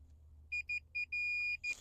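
A multimeter on continuity setting gives a series of sharp electronic beeps, several short ones then a longer sustained tone and one more short beep, clear and close over a low hum.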